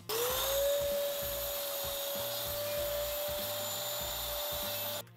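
A miter saw spins up with a rising whine and cuts through a wooden board, the motor holding a steady high tone over a rough, pulsing chatter before stopping abruptly at the end.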